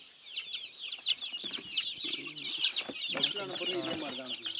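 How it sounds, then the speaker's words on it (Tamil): Country chickens cluck and squawk continuously at close range while around fifty birds are packed into ventilated boxes, with busy overlapping calls and faint voices in the background. "ஒரு ஐம்பது கோழியை நம்ம பாக்ஸில் பேக் பண்ணி கொடுத்துட்ருக்காங்க"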